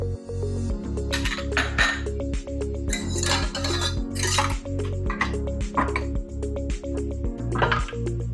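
Pastry dough of butter and vegetable shortening being mixed in a mixing bowl for Cornish pasties, with a steady rhythmic clinking and scraping against the bowl repeating about once a second, close and continuous, with a musical backing underneath.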